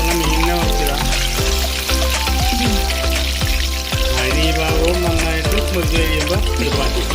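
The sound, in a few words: fish frying in a pan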